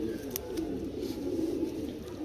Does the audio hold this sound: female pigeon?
yes